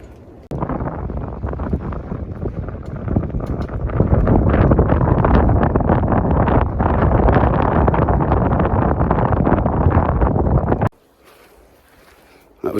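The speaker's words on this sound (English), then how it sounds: "Very windy, heavy rain." Strong wind buffets the microphone with a roaring, gusting rush at Loch Awe in winter, likely mixed with heavy rain, loud and sustained before cutting out abruptly near the end.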